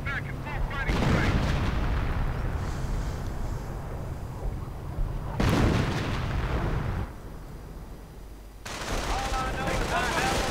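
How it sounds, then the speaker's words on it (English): Artillery fire in a strategy video game, with heavy booms and crackling bursts of gunfire layered into dense battle noise, rising in loud waves, while a voice talks over part of it. "More artillery towards the center."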